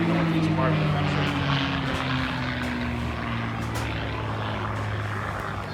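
A North American P-51D Mustang propeller fighter flying at the Jones Beach airshow, its engine a loud continuous drone with a slowly falling pitch as it passes by, with no one speaking.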